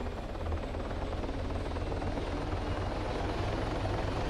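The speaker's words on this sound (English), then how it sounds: "they're gonna deploy recon via that helicopter" A video game helicopter flies nearby in a tactical military shooter, giving a steady, dense rotor thump and engine roar that holds even and loud throughout with no talk over it.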